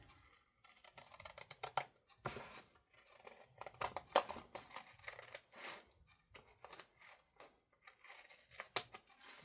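Scissors trimming paper while decorating a fall journal, a run of sharp, quiet, close snips in irregular bursts, separated by brief pauses and light paper rustles.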